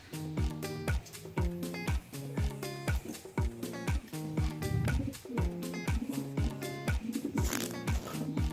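Racing pigeons coo steadily during their annual pigeon pox treatment, with repeated low, throaty calls in a loud, rhythmic, continuous run and no one talking.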